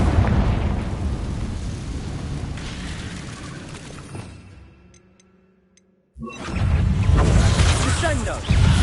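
Confringo fire spell in Hogwarts Legacy, a video game, bursting in loud booming explosions that roar for several seconds, fade to near silence, then erupt again in a dense, close blast.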